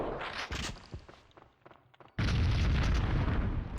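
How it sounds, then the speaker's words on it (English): A grenade blast in the video game Max Payne 2: after a quieter stretch of scattered gunfire and footsteps, a sudden loud, sustained explosion erupts and holds at full volume to the end. "Guess somebody threw a grenade."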